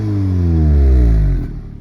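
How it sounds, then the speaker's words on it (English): Exhaust of an Audi S3 hot hatch with Quattro drive in dynamic mode on a soaking wet road, a loud, close engine note that rises steadily in pitch as it revs, then cuts off sharply near the end. "you can already hear the exhaust change, so that's what we like to hear"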